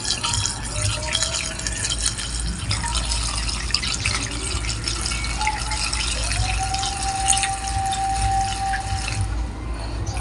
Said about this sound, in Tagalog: So lagyan lang natin ng gasolina.